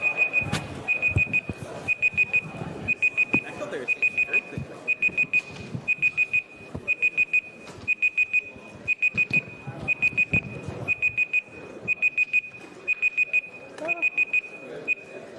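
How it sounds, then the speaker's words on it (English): Rapid electronic beeps repeat in steady bursts throughout, sharp and high-pitched, while people talk underneath. "Sorry, the beeping is very loud."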